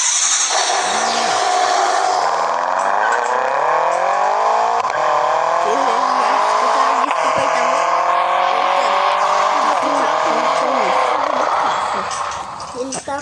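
BMW car engine sound played from a phone app, a loud revving engine with rising and falling pitch and a tire-squeal-like burst, continuous and close.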